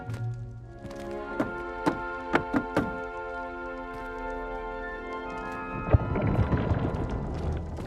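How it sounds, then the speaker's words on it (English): Rhythmic tapping on a barrel to open the Hufflepuff common room in Hogwarts Legacy: five hollow knocks in a short pattern over a sustained musical drone, followed by a brief swelling rumble as the entrance opens. "You must tap the barrel, 2 from the bottom, middle of the second row, in the rhythm of Helga Hufflepuff"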